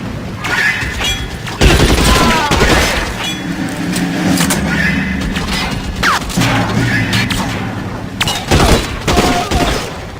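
Gunfire in L.A. Noire on Nintendo Switch: loud, sharp bursts of shots in quick succession, spread irregularly across the scene, mixed with crashing impacts and mechanical clatter.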